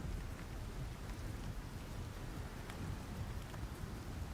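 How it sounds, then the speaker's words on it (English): Rain hammers on a tin roof in a constant dense wash of patter and hiss, with a low rumble beneath and no talking. "Sound of the rain slamming into the tin roof."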